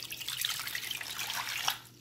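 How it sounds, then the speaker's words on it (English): Water poured into a crock pot holding a whole spaghetti squash, a faint steady trickle and splash with light dripping, fading at the end. "You need to pour some water in."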